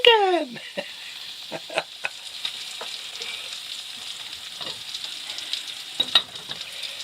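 Spam and bacon frying in a pan at a campsite near the Pacific coast, a steady close sizzle with occasional scrapes and clinks of a utensil against the pan.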